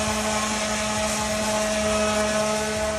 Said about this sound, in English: especially when you have a sander